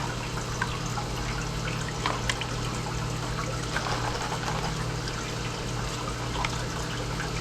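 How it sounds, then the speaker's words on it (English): Cloudy aquarium water is poured out of a Tupperware container, a steady close trickle and splash running continuously over a low background hum. "So I'm just going to dump this water out because it's a little cloudy now."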